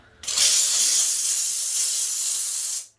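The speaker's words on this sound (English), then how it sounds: "Do a little steam. Look at that. Comes right off." Loud, close hiss of a steam cleaner jetting steam onto a dirty surface, one continuous burst of about two and a half seconds that stops abruptly.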